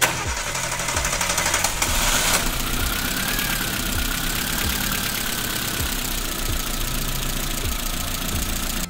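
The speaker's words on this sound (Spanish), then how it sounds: "Vamos a arrancar el motor." A Chevrolet Matiz/Spark petrol engine, fitted with a fuel pressure gauge, cranks and catches, then settles into a steady, close, loud idle with an even rhythmic pulse throughout.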